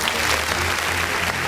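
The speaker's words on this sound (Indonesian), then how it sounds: "tepuk tangan sekali lagi untuk Om Darwis Triadi." A brief burst of loud audience applause at a talk show on product photography techniques, with many people clapping steadily throughout the short moment.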